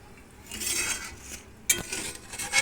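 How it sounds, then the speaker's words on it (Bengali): A spoon scrapes and clinks against a pot while stirring moong dal cooked with a katla fish head, in soft uneven strokes with a sharper knock near the end. "ভালোভাবে এবার এটাকে মিশিয়ে দেবো।"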